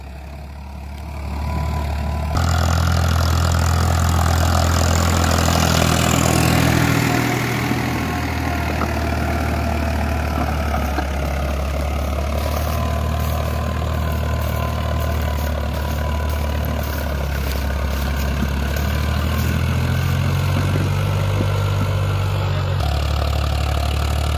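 A new Farmtrac 60 Powermaxx tractor working damp, sticky field soil with a rear-mounted implement, its diesel engine droning steadily at speed with a low rumble and harmonic hum, rising in load near the start and again toward the end.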